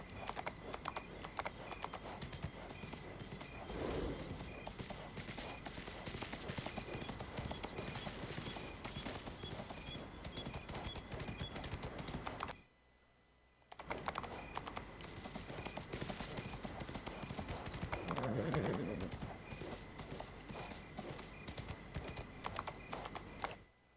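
Horse hooves clip-clop steadily along a road in the video game Windstorm, a continuous close trotting rhythm that drops out briefly before resuming.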